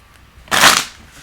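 A deck of tarot cards gets one quick riffle shuffle, a brief close-up papery burst lasting about half a second amid quiet surroundings.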